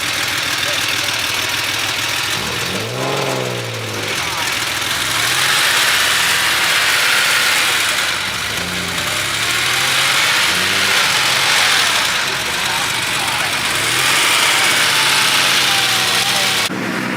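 Car engines at an outdoor car meet, with a Datsun 240Z and a Porsche nearby, rumble at idle and rev in several loud rising bursts, close to the microphone and mixed with steady wind and crowd noise.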